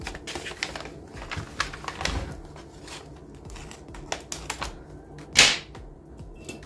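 Scissors snip through a fabric placemat in a series of soft, irregular cuts, with one sharper, louder snip near the end; quiet and close.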